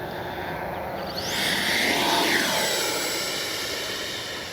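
A FlyFans L-39 Black Diamond radio-controlled model jet with a 64 mm ducted fan on a morning flight, a loud whooshing turbine whine that swells as it passes overhead and then fades slightly, with no voices.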